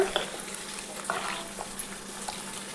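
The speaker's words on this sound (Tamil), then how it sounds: "இப்போ இது நல்லா கிளறி விட்டுக்கோங்க." Washed rice being stirred into boiling water in a pot for mushroom biryani, a faint, close scraping and bubbling churn with light clinks, without speech.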